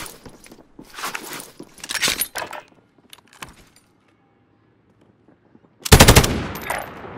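Gunfire in Call of Duty Modern Warfare: bursts of automatic rifle fire in short clusters, a few lone shots between, then a loud sustained burst near the end, with faint metallic rattles in the pauses.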